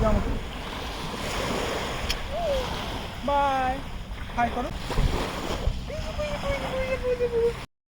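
Small, gentle sea waves washing onto a Singapore beach, a steady soft surf wash with wind, overlaid by nearby voices and short tonal calls.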